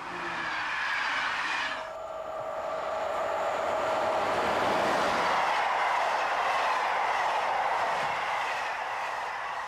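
A train running at speed on the Bruges to Brussels main line in Belgium, a close, steady rushing roar of wheels and rails that swells and holds throughout with no voices.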